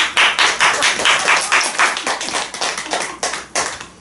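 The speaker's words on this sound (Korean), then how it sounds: "목랑사 주지스님 박수 소리가 제일 크다고." Hands clap loudly and rapidly nearby, a run of about twenty sharp claps in an uneven rhythm, heard alone.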